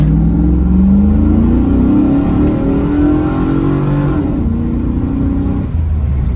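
Loud Camaro V8 engine revving close by, the pitch climbing and falling through repeated throttle bursts with a deep rumble underneath.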